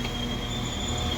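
Train pulling into Reddish North station in Greater Manchester, a steady close rumble of rolling stock with a faint high wheel squeal running throughout, no talk.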